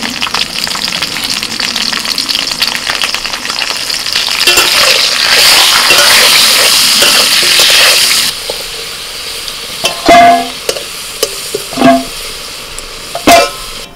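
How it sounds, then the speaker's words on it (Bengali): Potatoes frying with salt and turmeric for a Bengali fish curry with pointed gourd, a steady loud sizzle with stirring for about eight seconds, then quieter scattered clinks and scrapes. "একটু লবণ আর একটু হলুদ দিয়ে আলুটা ভেজে নেব।"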